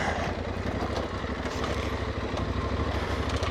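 A dirt bike rumbles steadily on an off-highway-vehicle trail during a Taylor Pass ride, its engine a close, continuous low drone with wind noise and no breaks.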